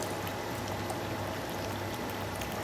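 Beef stock pours steadily into a pan on a low flame for a Liège meatball recipe, a continuous liquid splash and trickle with no pauses, close and moderately loud throughout.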